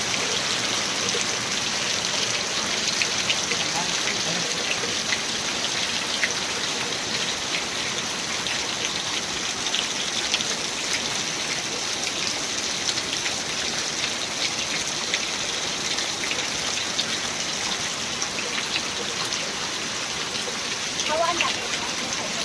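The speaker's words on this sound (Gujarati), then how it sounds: "હમણાં આટલો આવ્યો ને આજ બહુ વરસાદ" Heavy monsoon rain pours steadily onto surfaces in a Gujarati village, a dense even hiss that stays constant and loud throughout, with a voice talking faintly underneath.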